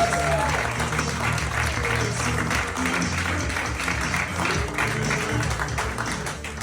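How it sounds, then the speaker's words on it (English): An audience at a stand-up comedy show at Beachside Retro applauds warmly for the comedian Craig Chamberlain, with dense clapping that holds steady for several seconds and a few voices mixed in. "Start clapping your hands for Craig Chamberlain"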